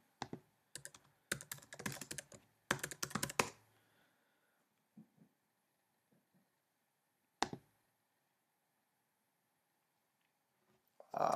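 Bursts of quick keystrokes on a computer keyboard in the first few seconds, then sparse isolated taps and a sharp click in an otherwise quiet room.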